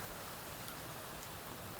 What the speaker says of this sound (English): It's full on hailing.